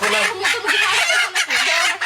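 Village chickens cluck in repeated short bursts close by, busy and uneven in rhythm, with no talking over them.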